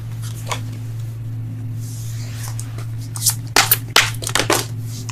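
Tarot cards are shuffled close up, with soft riffling and slapping in quick bursts that grow louder toward the end over a steady low room hum.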